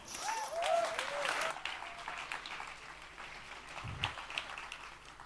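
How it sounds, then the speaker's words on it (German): Audience applause at a Jugend Hackt Berlin 2019 youth hackathon presentation, a moderate burst of clapping that fades, with a brief whistle-like tone and a low thump near the end. "Einen herzlichen Applaus."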